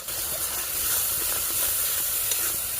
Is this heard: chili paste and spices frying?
yes